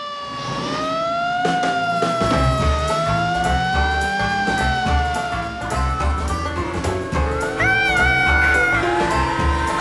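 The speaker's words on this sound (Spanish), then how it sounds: "¿Quieres tocar la sirena, Jorge?" A cartoon fire truck siren from Curious George in Spanish wails up and down over busy music and clattering sound effects, loud and continuous throughout.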